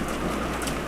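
Steady rain falling as a sound effect in a dramatized reading, a soft, even hiss of drops filling the background with no voices over it.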